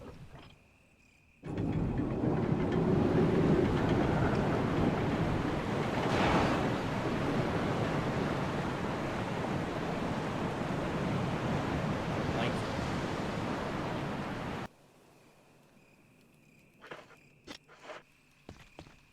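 A waterfall in the video game Resident Evil REmake, a loud, steady rushing roar that fills the middle of the clip, beginning and ending abruptly, with quiet game ambience and faint clicks on either side.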